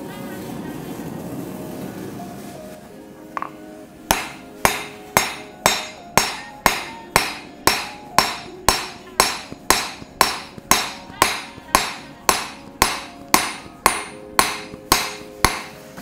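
A hammer forges hot steel for a nakiri knife, striking about twenty sharp, ringing blows in a steady rhythm after a low rumble and a brief pause, loud and close.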